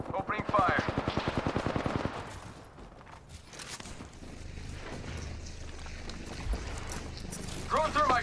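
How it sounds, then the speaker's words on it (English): Apex Legends gunfire opens with a rapid automatic burst of shots, followed by quieter in-game ambience and another short burst at the end. "Opening fire."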